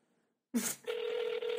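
A telephone rings on a call to Time Warner: after a click, a steady electronic ring tone plays close and fairly loud, with no talk over it.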